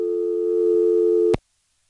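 A steady dial tone from a 1970s local/toll telephone switch in Rock Hill, South Carolina hums for over a second, then cuts off sharply with a click, leaving silence.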